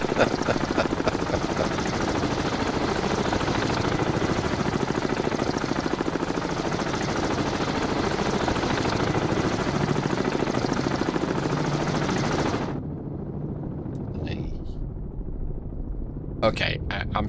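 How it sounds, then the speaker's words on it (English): Helicopter in the naval game Cold Waters, a steady dense rotor and engine roar under talk that cuts off abruptly near the end, leaving quieter background. "Oh, the helo's close to me."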